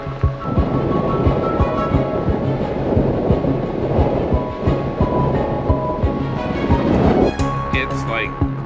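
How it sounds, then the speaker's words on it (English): Strong wind blowing outdoors at Canyonlands Island in the Sky District, a loud, continuous roaring buffet with gusty swells and rumbles across the whole stretch. "It's like really windy out there."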